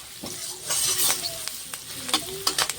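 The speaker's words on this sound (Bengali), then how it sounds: "আলুটা একটু ভেজে নেব" Potatoes frying in a pan with a pinch of salt for a Bengali fenugreek-greens dish give a close, steady sizzle, broken by a few stirring scrapes and light utensil clinks, with no talking.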